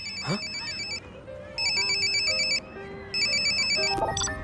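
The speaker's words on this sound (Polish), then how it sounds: "Odbierz telefon, błagam!" A phone ringtone chirps in repeated electronic bursts with short gaps between them, over a busy room and some background talk.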